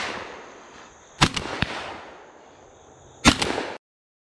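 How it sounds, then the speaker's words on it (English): Shotgun fire during a dove hunt: two sharp, loud blasts about two seconds apart, the first trailed by a couple of quicker cracking echoes, over quiet outdoor field ambience. "Shoot him, Evan, shoot him."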